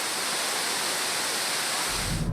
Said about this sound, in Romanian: să mai vedem încă o dată cascada de aici, de jos